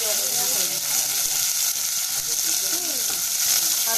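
Cabbage and celery sizzle and crackle steadily in a hot pan, a loud, continuous frying hiss with faint stirring scrapes.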